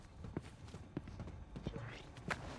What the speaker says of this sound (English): the footsteps sound too loud to be the NPCs